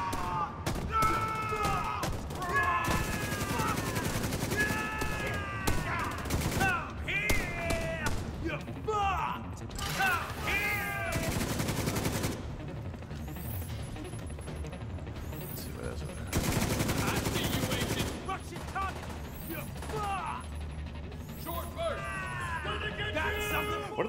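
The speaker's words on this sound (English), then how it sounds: "These guys got shotguns." Shotgun fire and other gunfire in the video game The Division 2, with heavy blasts and bursts of shots scattered among game voices and chatter, loud and busy throughout.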